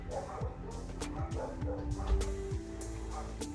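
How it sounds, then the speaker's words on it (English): A dog named Sadie barks and yips repeatedly from somewhere below, the sharp calls muffled and fairly faint, sounding from another part of the house. "I'm not sure if you hear it or not, but Sadie's down there barking"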